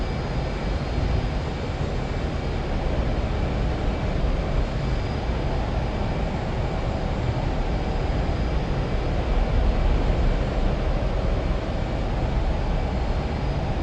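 An F/A-18 jet engine roars on afterburner in the DCS flight simulator game, a dense, continuous broadband rumble that stays loud and unchanging with no voices.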